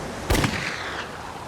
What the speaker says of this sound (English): And then I fired off my 3 last rounds of my pistol to try to get more help.